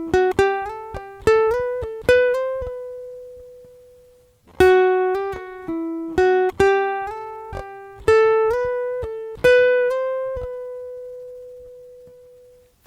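A ukulele phrase with a slide and a pull-off, a run of bright plucked notes in two groups, some ringing into gliding sustained tones, played alone and clearly.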